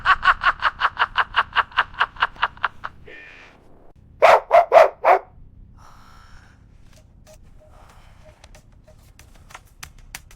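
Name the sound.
dog barking in a cartoon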